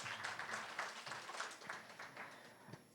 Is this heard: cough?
no